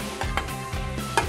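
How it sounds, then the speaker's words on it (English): A spoon stirs curry powder and lemon juice into yogurt in a bowl, giving soft, wet scraping strokes that repeat in a quick, uneven rhythm, close by, with no talking. "I'm now going to mix some curry powder and lemon juice into the yogurt"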